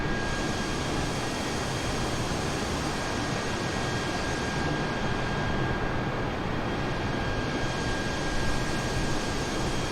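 An Airbus A320neo jet engine in Microsoft Flight Simulator 2020 drones with a steady, loud broadband roar and thin whining tones, unbroken throughout with no voices.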